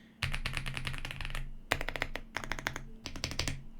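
Rapid typing on EP84, EK68 and AULA F75 mechanical keyboards, dense bursts of clacking keystrokes in three short runs separated by brief pauses, close and clear with no voices.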